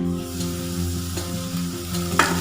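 Carrots sizzle steadily in a hot pan, a close, continuous crackling fry with a few brief louder spits and a faint hum underneath, with no voices.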